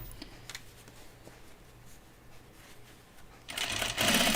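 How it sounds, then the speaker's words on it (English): A sewing machine edge stitches close along overalls. It gives a quiet, even running hum with light ticks, then a louder, brighter burst near the end. "I'm doing my edge stitch pretty close"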